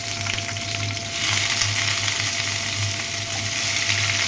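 Chopped onions frying in hot mustard oil, a steady bright sizzle filling the whole clip with a low hum underneath, slightly louder after the first second, no voices.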